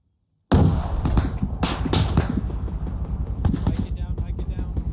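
A rocket launcher fires during a military field exercise ambush: a loud blast bursts in after half a second of silence, followed by sustained roaring and rumbling with further sharp cracks, while a voice talks briefly.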